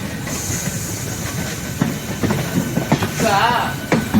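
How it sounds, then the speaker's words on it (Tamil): A Salem–Mayiladuthurai mainline EMU passenger train runs with a steady broad rumble and hiss, punctuated by intermittent rail clicks and clanks and a brief squeal near the end. "Mayiladuthurai Salem Mayiladuthurai main line EMU"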